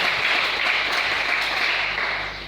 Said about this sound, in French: Est-ce qu'on peut acclamer pour le roi des rois ce matin?